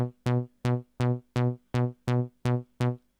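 A Korg Volca Bass synthesizer plays nine rhythmic, bright bass notes with its second oscillator active, each a short plucky buzz, evenly pulsed and slightly thicker in tone, with no voices.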